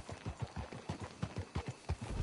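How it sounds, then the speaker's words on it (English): Horse hooves clip-clopping in a steady, quick rhythm in Red Dead Redemption 2, close and clear, with no talk over them. "Can't you control that damn horse?"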